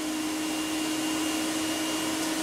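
A vacuum cleaner left running in a living room, a steady whirring drone with a strong low hum, continuous and close for the whole stretch, with no voices.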